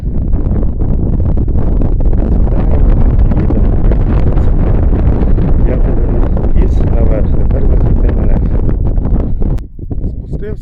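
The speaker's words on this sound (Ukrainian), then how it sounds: "там наверху дуже сильний вітер" Strong wind roars continuously into an unshielded microphone, loud and buffeting throughout, with a brief dip near the end, high in the Carpathian mountains.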